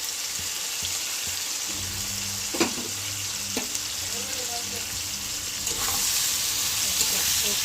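Turmeric, chilli powder and sugar fry in a pan for a vegetarian banana flower and moong dal dish. A steady, fairly loud sizzle runs throughout, broken by a few soft knocks from stirring.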